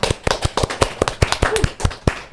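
A small group claps, a scattering of sharp, uneven handclaps close by in a quick, irregular burst of applause at a talk show taping.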